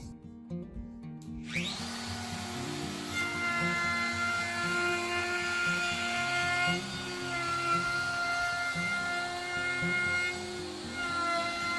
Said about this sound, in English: So next we'll quickly round over the edges with my trim router.